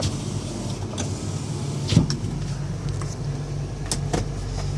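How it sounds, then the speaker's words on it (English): Power windows on a 2019 Dodge Caravan SE wheelchair mobility van hum steadily under a low idling rumble, with a brief clunk partway through and faint clicks near the end. "We're going to go ahead and test our mirrors, or excuse me, our windows."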